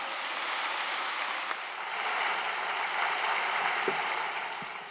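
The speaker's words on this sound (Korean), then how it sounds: "뜨거운 박수 부탁합니다." Congregation applause at a large 2022 Korean church Easter joint thanksgiving service at Yoido Full Gospel Church, a steady wash of distant clapping that holds for several seconds without talk.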